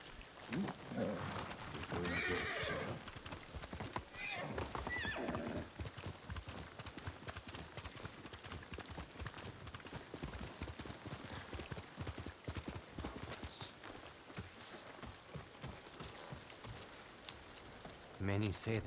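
Horse hooves clip-clop steadily in the Ghost of Tsushima video game, with rain falling and occasional neighing, while voices talk intermittently over the repeated hoofbeats at a soft, even level.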